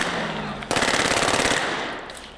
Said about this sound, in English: It actually recoils almost like the live round would make the gun recoil.